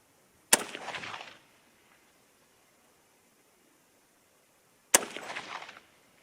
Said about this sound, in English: Okay, so that last shot was about 2 inches low.